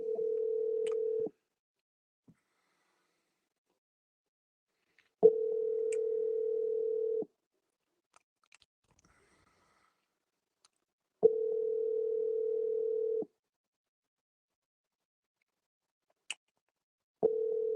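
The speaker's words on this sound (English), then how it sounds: "Let's see if we can get Darren on the phone." A telephone line signals while a call is placed, a steady tone repeating in about two-second bursts separated by roughly four seconds of silence, fairly quiet and with no talk.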